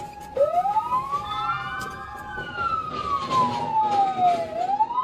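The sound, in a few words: police car sirens during a vehicle chase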